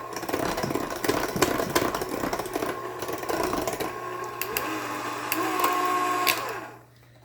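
An electric mixer whirs steadily through dairy-free copycat Disney Floridian Hotel chocolate chip cookie dough, a close motor drone with rattling, that winds down and stops at the end.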